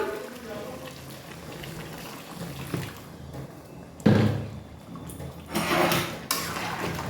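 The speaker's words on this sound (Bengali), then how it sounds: "এবার আমি এখানে গরম জল অ্যাড করে দিলাম" Hot water is poured into a pan of frying mutton for a Bihari-style curry, letting off two sharp hissing bursts of sizzle amid clinking cookware, with someone talking nearby.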